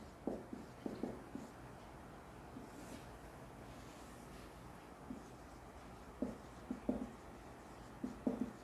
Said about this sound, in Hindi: तो मैं नोट में अपन लिखेंगे